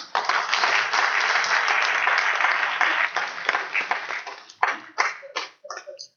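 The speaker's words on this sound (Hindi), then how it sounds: "मैडम का स्वागत आप लोग जोरदार तालियों से करें।" An audience at a farmers' government-schemes gathering gives a loud welcome applause for a female guest, a dense roar of claps for about four seconds before thinning into a few scattered, separate claps near the end.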